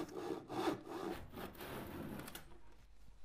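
A hand saw cuts through the wooden side of a cabinet in a few rough back-and-forth strokes, close and scratchy, then slows and fades to quiet near the end.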